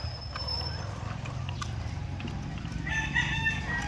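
An Aseel gamecock crows near the end, a short raspy call rising over a constant low hum and light background clatter.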